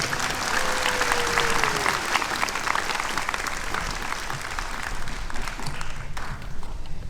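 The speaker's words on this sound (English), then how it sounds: "Let's have one more hand of applause." Sustained applause from an audience at a Veterans Day ceremony, steady dense clapping throughout with a faint voice or two underneath.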